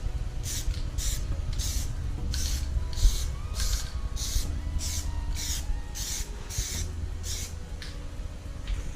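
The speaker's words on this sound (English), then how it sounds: "So this stuff sprays really wide" Plastidip aerosol spray coating the rear silver trim of a 2022 Kia EV6, heard as a steady run of about fifteen short, hissing bursts in an even rhythm, close and fairly loud over a low background rumble.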